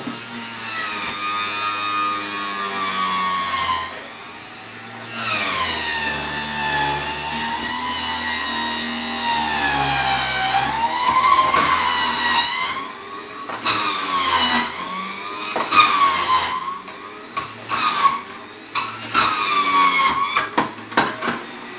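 Lequip Mini juicer pressing tomatoes, a steady loud motorized whine with shifting grinding and squeezing tones that run continuously, rising and falling in pitch as fruit is pushed through.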